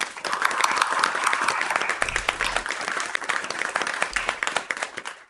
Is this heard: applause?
yes